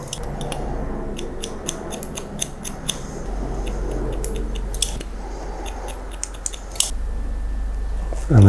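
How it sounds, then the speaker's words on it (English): Scissors snip hair during a 90s-style men's haircut, a fast run of close, crisp metallic cuts over a steady low background hum, tapering into sparser snips. "I'm cutting that in."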